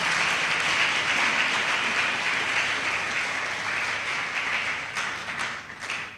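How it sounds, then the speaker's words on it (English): Sustained applause from an audience at an academic inaugural lecture in Ghana, honouring performers; steady dense clapping throughout, fairly loud, thinning slightly toward the end. "Can we give them another round of applause"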